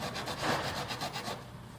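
Hand filing of a car antenna made of stainless steel and yellow brass, a close, steady rasping scrape with rhythmic strokes, fairly quiet and heard alone.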